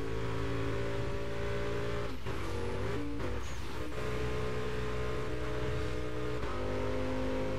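An engine in the racing game Burnout Paradise drones loudly and continuously, with pitch shifts and brief dips as the car accelerates, and no voices over it.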